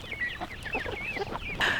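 A flock of chickens, a mix of meat birds and laying hens, clucks and chatters continuously nearby, with overlapping calls and a louder squawk at the end.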